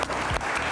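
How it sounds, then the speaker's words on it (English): Brief burst of steady applause from a quiz show grand finale audience, dense and even throughout with no voices on top. "A round of applause for them."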